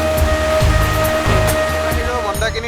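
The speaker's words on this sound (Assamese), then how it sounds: "মন্দাকিনী নদীৰ পানীৰ" The Mandakini river rushes along the trail to Kedarnath, a loud, constant broadband roar with a voice speaking over it.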